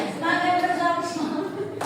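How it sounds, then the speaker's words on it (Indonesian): Students in a classroom civics simulation clap hands in a brief burst, partly masked by voices talking over it. "tepuk tangan dulu"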